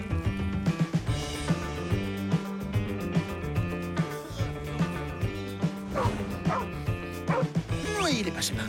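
A cartoon dog from the French animated series Zip Zip barks and yips repeatedly, with short whimpering tones, over a busy musical score.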